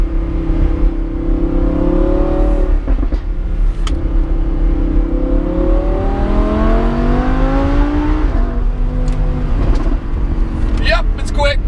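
A Lamborghini Huracan Spyder with a 604-horsepower engine, paddle shifters and four-wheel drive, pulling hard with a loud rising engine note that climbs and drops through gear changes, heard from inside the car while someone talks over it.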